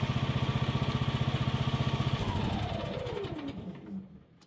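A 2024 Husqvarna TS 114 riding lawn mower engine runs loud and close with a steady pulsing chug, then winds down as it is shut off, the pitch falling away into quiet.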